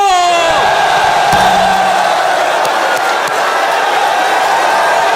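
A large crowd at a FlipTop rap battle shouts and cheers together in a loud, sustained roar, with a few sharp knocks and thumps mixed in.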